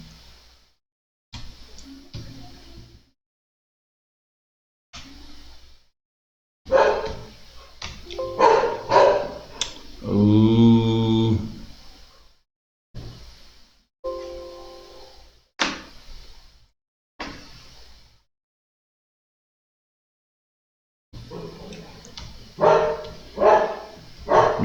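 A dog barks in scattered bursts separated by quiet gaps, with a louder run of barks in the middle, heard from inside a home during an online class.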